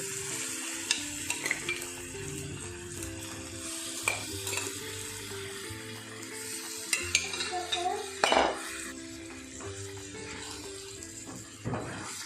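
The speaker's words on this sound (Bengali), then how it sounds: "এবার আমি মাটনের পিসগুলোকে এর মধ্যে দিয়ে দেব, আর এটাকেও আমি কিছুক্ষণ মশলার সাথে ভালো করে মিশিয়ে নেব।" Mutton pieces fried with spices in a pan, stirred with a utensil that scrapes and clinks against the metal in irregular bursts over a continuous sizzle, close up and with no talking.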